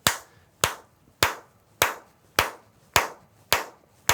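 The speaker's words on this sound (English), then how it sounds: "On the count of 3, let's clap our hands." Hands clap in a steady, evenly spaced rhythm, eight sharp, close claps at a moderate tempo with brief quiet gaps between them.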